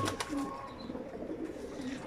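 Pigeons coo in a loft, a soft low rolling murmur repeating close by over faint background noise, with no talking.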